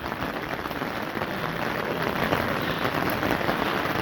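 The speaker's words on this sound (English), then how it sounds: "it's absolutely pouring down" Heavy rain pours steadily at Mont Saint Michel, a dense, continuous hiss of drops striking hard surfaces that builds slightly in loudness, with no voices.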